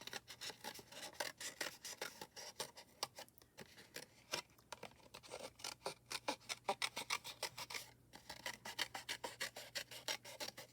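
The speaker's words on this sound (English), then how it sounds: "I just want to take my scissors, and I'm going to go in there and very roughly kind of cut that center out" Scissors roughly cutting the paper centre out of a handmade card, heard as quiet, close, rapid rasping snips in a steady rhythm with no talking.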